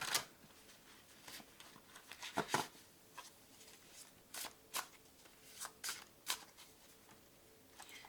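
Tarot cards riffled and shuffled in quick irregular bursts, crisp papery flutters with short pauses between, close and fairly quiet with no talking.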